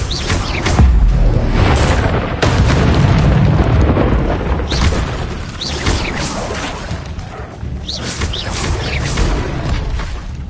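Booming fiery blasts from the Incendio spell in Hogwarts Legacy on PS5, several loud whooshing bursts and crashes one after another, close and continuous with no talking.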